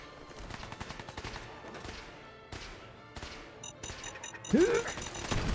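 Gunfire in Fallout 4 crackles in repeated bursts amid game combat, with some sharp thuds and a louder burst near the end over continuous background noise.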